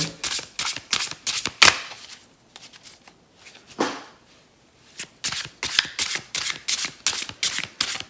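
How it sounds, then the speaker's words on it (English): Tarot cards, the Crow Tarot deck, being shuffled by hand: rapid bursts of crisp riffling and slapping, close and fairly loud, in two runs separated by a brief quieter pause. "I'll be shuffling and pulling 3 cards from each deck."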